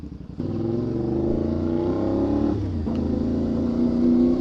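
A car engine under clutchless shifting, with sustained engine drone that rises in pitch, drops with a brief rev bump around the shift, then climbs again, loud and close with no talk.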